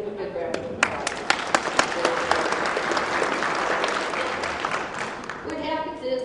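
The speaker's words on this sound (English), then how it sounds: "give them a good round of applause" An audience claps for volunteers at a stage hypnosis show, a few sharp claps swelling into dense, sustained applause that fades near the end as someone starts talking.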